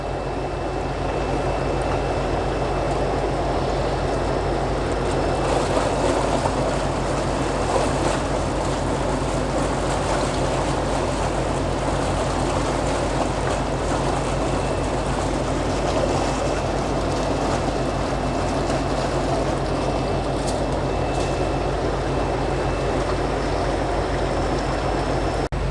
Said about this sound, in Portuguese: Nesse momento intensifica-se a aeração para homogeneizar a pós-larva na coluna d'água